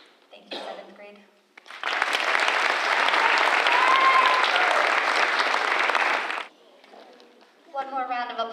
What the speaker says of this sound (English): One more round of applause for all of our students